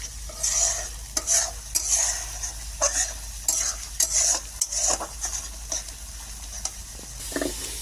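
A spoon scrapes and stirs thick curry with yogurt in a frying pan, repeated strokes over a soft background sizzle, while cooking hilsa fish curry.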